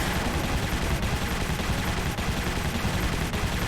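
Gunfire rattles in the video game Prototype, a dense, continuous burst of shots and impacts that keeps loud and steady throughout, with no talking.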